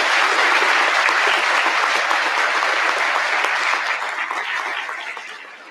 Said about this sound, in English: Can you please give another round of applause for our veterans?